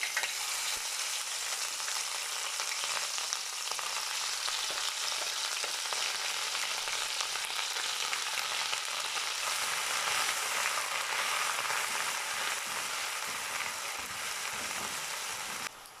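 Roughly blended pepper hitting already hot oil for Nigerian peppered gizzard, a loud, dense, continuous sizzle with stirring that holds steady throughout before easing slightly at the very end.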